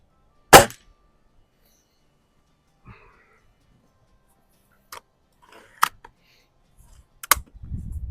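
A Norica Dreamhunter air rifle firing pellets at a range, with a loud sharp crack, then a few more spaced, quieter snaps and small clicks, followed by a rumble of handling.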